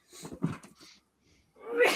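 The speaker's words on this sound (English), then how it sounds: "I'm about to sneeze" A person's sneeze at close range, a quick sharp inhale-and-burst pattern followed by a short pause and a breathy exhale.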